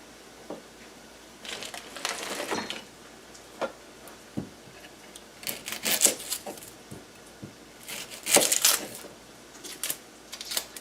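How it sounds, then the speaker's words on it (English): A knife dices an onion on a cutting board, giving irregular close chopping taps and clicks in short bursts with pauses between them. "The first thing we need to do is to dice up an onion."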